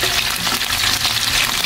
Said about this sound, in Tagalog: prito po muna natin to kahit konti lang. Yung ating mga isda.